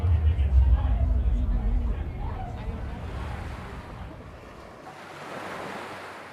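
Lake waves washing onto the shore below the Scarborough Bluffs on a Sunday morning, a low rolling surge with heavy wind buffeting the microphone that eases off, leaving a softer hiss of water.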